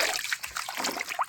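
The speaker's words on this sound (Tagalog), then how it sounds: "Dito natin hugasan bago natin ibilad." Malunggay leaves being washed by hand in water, a brief burst of close splashing and trickling with small sloshes, no talk.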